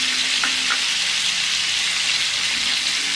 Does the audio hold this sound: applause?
no